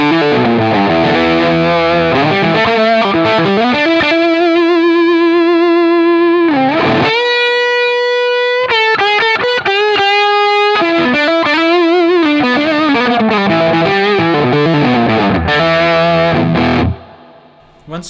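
Gibson Les Paul electric guitar through a Boostache pedal at high gain, playing loud distorted chords and sustained single notes with a saturated, ringing tone, a short gap midway, then cutting off near the end.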